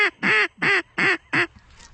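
Ducks quacking during a sunrise waterfowl hunt, four loud evenly spaced quacks close by in quick succession, then fading.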